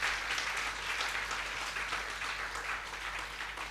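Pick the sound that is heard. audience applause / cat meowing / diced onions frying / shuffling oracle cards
audience applause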